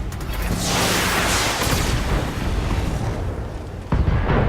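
Mech weapons fire and a large explosion in the video game Battletech, a loud sustained roaring blast with rumbling booms and a sharp burst near the end, no voices over it.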